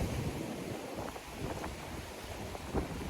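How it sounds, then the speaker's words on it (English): Sea waves breaking into white water on a rocky UK shoreline, a faint continuous wash of surf mixed with wind buffeting the microphone, no voices. "Nice bit of white water."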